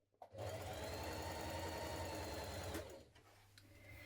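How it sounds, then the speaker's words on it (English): A sewing machine runs in one continuous burst, stitching facings together at the shoulder seams of a Liberty London Esther tunic top; the motor whirs evenly and close for about two and a half seconds, then stops, leaving faint handling noise. "you're going to stitch these together at the shoulder seams also"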